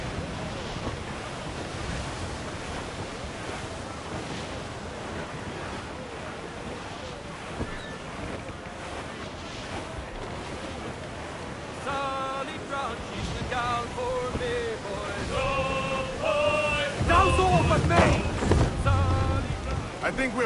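Squall wind and crashing sea waves surge around a sailing ship in Assassin's Creed 4 Black Flag, a constant rushing roar that swells louder toward the end, with shouted voices and music cutting in.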